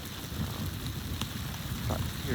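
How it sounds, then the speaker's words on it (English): Rain falling on a homestead in Arivaca in the Sonoran Desert, a dense steady patter with scattered closer drops, loud and continuous with a hint of wind. "here in Arivaca, we are being blessed with rain,"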